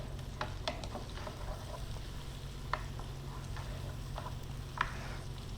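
Food sizzles in a frying pan turned up to high heat, giving a continuous close hiss. Scattered sharp pops and crackles break through it at irregular moments, and no one speaks.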